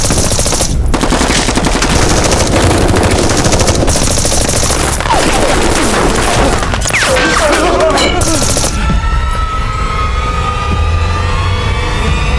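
Dense automatic gunfire rattles through a staged battle scene in a Chinese military drama set in the Golden Triangle, loud and continuous, with sustained bursts and whistling high sweeps toward the end.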